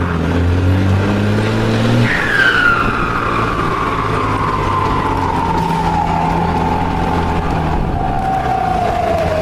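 A modified car exhaust whistles loudly up close, a sharp high whine rising after a couple of seconds and then slowly falling in pitch as the engine revs, over a steady low rumble.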